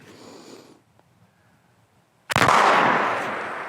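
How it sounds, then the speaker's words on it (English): A shotgun slug fired from the lower barrel of a BRNO ZH205 combination gun: one sharp, loud blast with a long rolling echo after a quiet pause, outdoors and near, with no voices. "So we'll shoot with the slug first."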